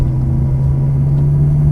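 A Ferrari's engine pulls hard on the Lydden Hill race track, a loud, steady in-car drone whose pitch creeps slightly upward under acceleration, with no voices.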